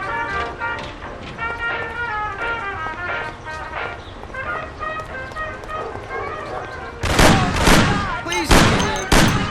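Gunfire breaks out in the Mafia video game as loud, bursting shots crack over a chase scene, following frantic character dialogue and a tense musical score.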